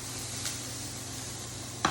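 Onions browning in a pan, a quiet steady sizzle under a low hum, with a brief scrape or clink near the end.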